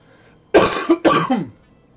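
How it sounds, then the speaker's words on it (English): Two harsh, close coughs in quick succession, loud and abrupt, then quiet. "Cough is still with me."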